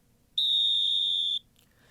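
A single sustained whistle blast, sharp and steady for about one second, stands out clearly against a quiet low hum, with no talking.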